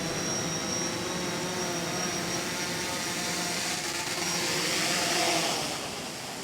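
A fishing drone flies in to land, a steady whining buzz of its propellers close by that swells slightly near the end, with no talk.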